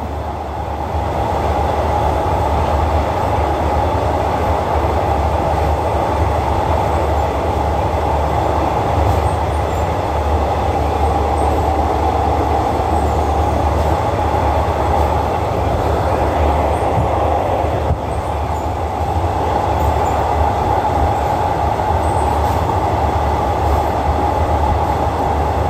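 Rapid train 139 runs at night on an elevated track through a city, giving a loud, steady rolling rumble of wheels on rails that continues for the whole stretch with no talking.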